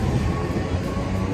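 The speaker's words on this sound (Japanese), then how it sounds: "路面電車" Steady rumbling roar of a street tram rolling past nearby in Sapporo, a continuous broadband rail noise without pauses.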